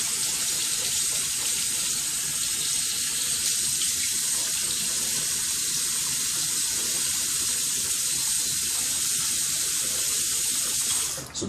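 Tap water running steadily from a bathroom faucet while a face is rinsed after a razor shave, a continuous close hiss and splash lasting throughout.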